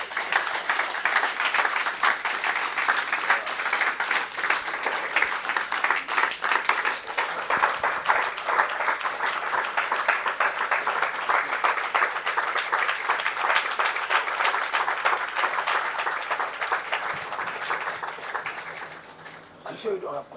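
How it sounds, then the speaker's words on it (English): An audience applauds a speaker after a talk, dense sustained clapping filling the room for about twenty seconds before tapering off at the end. "A round of applause one more time for Kwaku Sakyi-Addo."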